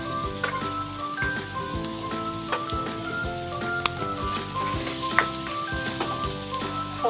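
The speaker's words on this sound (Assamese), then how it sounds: "চব্জিখিনি এয়া 2 মিনিটৰ কাৰণে মই এনেকৈ ভাজি লৈছোঁ যাতে কেঁচা গোন্ধটো যায়" Chopped vegetables and carrots fry in a pan with salt and black pepper for white sauce pasta, a soft steady sizzle with occasional stirring clicks under background music.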